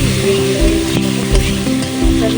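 Ginger, cumin and dried chili sizzle loudly in hot oil for a vegetarian banana-stem dish, a dense, continuous crackle with the clink and scrape of stirring near at hand.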